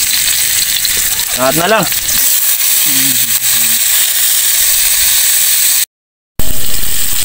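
Ginger and onion frying in a pan, a loud, steady sizzle heard close up throughout, with a brief spoken phrase and a short mumble over it and a momentary dropout near the end.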